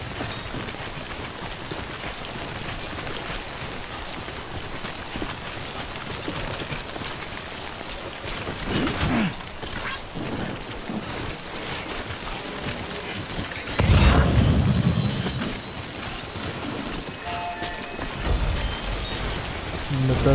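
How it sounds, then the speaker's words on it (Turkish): Steady heavy rain pours down in the video game Death Stranding, a constant hiss of drops on surfaces with a few louder swells and rumbling bursts along the way. "Yağmur geldi."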